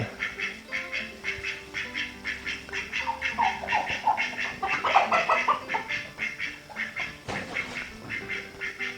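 A flock of ducks and geese quacking and honking over and over, a busy, continuous chorus of poultry calls at moderate distance.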